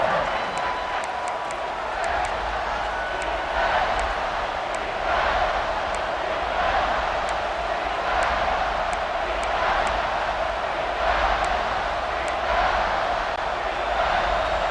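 Stadium crowd at a college football game between Florida and Auburn, a dense, steady roar of cheering and shouting that swells and rolls continuously throughout, loud and close with no pauses.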